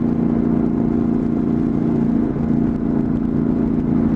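A 2015 Victory touring bike and a Honda CTX ride on a road through Saguaro National Park, giving a steady engine drone and rumble with wind noise, continuous and even, with no talking.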